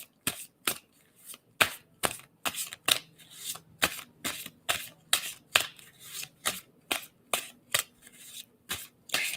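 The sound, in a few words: shuffling tarot cards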